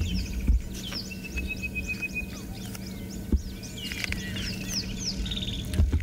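A wild bird calls repeatedly during a safari livestream: thin, high chirps and one long whistled note over a background of quiet outdoor ambience, with a few soft thumps, moderately distant and without talk.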